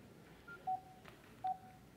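Telephone dialing tones: two short, clean DTMF beeps spaced under a second apart, faint and close in a quiet room with no talk.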